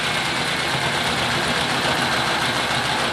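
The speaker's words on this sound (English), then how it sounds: "Engine starts running in reverse." A Lionel Powermaster-controlled toy train engine runs in reverse, a steady dense motor whir and track rumble holding at even loudness throughout, with no speech.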